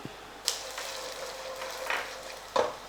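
Peanuts, coriander seeds, dried red chillies and fenugreek seeds fry in a pan with a steady low sizzle, broken by a few sharp crackles and spatters near the middle and end.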